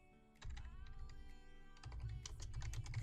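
Fingers type on a computer keyboard in quick bursts of sharp clicks, a short run, a pause, then a denser flurry, close and clear with no voices.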